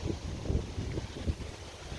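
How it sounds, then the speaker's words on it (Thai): Strong cool-season wind gusts across an outdoor farm compost area, buffeting the microphone with faint, low rumbling bursts and no other clear sounds. "ลมแรงมากๆนะเพื่อนๆอาจจะได้ยินเสียงลมนะคะ"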